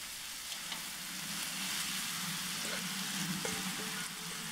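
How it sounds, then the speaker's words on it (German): Thin strips of celery root fry in a pan, a steady close sizzle with occasional light stirring scrapes, while the vegetables are sautéed for a Central Asian lagman noodle dish. "Dann Sellerieknolle wird auch so in Streifen, dünne Streifen geschnitten und wird auch angebraten."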